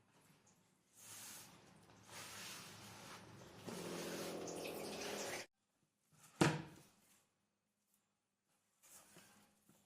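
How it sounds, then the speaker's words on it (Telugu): Water pours into an MTR gulab jamun mix in a steady, rising stream for several seconds, then stops. A single sharp knock follows, then near silence. "వాటర్ వేసుకుంటున్నాను"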